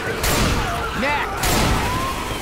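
Gunfire in the zombie shooter Left 4 Dead 2 rattles in loud, dense bursts during a Christmas-themed Dead Center campaign, with a brief whistling tone between volleys and voices talking over the action.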